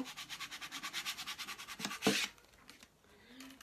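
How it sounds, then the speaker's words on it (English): A plastic gift card rubs firmly back and forth over transparent glitter vinyl on transfer tape, giving a close, steady run of rhythmic scraping strokes that end in a louder burst before quieter handling noise. "I'm going to use my trusty gift card to smush it down again."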